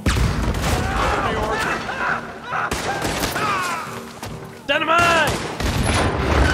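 Dynamite explosions and gunfire in Red Dead Redemption 2, repeated booming blasts and shots in a chaotic fight, with characters shouting over the din throughout.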